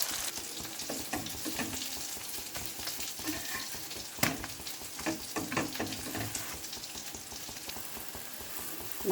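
Potatoes frying in oil in a pan for a home dinner, a steady close sizzle with intermittent scraping and stirring clatter from a utensil, one sharper knock midway.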